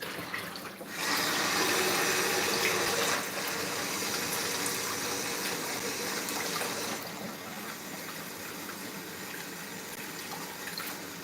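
Tap water pours steadily from a kitchen faucet, being warmed before a full pack of active dry yeast goes in for pizza dough. The flow is close and loud, gushing hard at first, then settling to an even, slightly softer stream.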